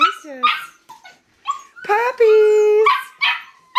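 Standard poodle puppies about six weeks old bark, yip and whimper in short bursts close by in a living room, while a person talks over them.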